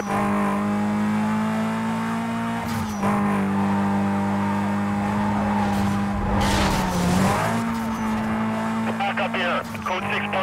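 Street racing cars in the video game Need for Speed: Most Wanted, with loud, sustained engine drone and tire screeching that swells around the middle, under a police dispatch voice.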